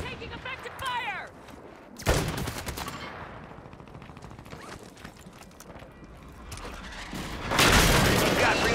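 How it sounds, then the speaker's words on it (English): Rapid bursts of gunfire and heavy explosions from a Call of Duty military shooter, loud and close with sharp blasts around two and seven seconds, and sustained rattling in between. "Taking effective fire!"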